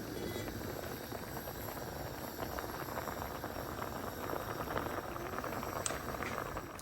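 A covered pot of rice and red peas with garlic and pimento seed simmers and bubbles steadily, a continuous, soft, close boiling hiss with no talking.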